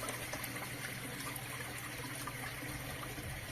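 Water trickles and splashes steadily in a goldfish tank right after its pump is switched off, a continuous soft, close flow with no clear fading in the moment heard.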